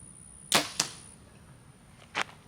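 Broadhead-tipped arrow shot from a bow with a sharp release crack followed quickly by a second snap, then a distant impact thud a moment later against a quiet outdoor background.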